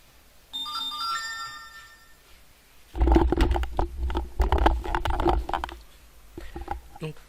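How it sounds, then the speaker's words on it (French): A phone plays a short melodic ringtone as a motion-detection notification on a Raspberry Pi B+ security setup, followed by close, loud handling and rustling noises. "Et vous verrez la notification dès que j'aurai appuyé."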